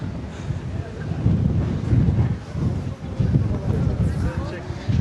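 Strong wind buffets the microphone in heavy low rumbling gusts at the Çanakkale Martyrs' Memorial, steady and loud throughout, with faint voices underneath.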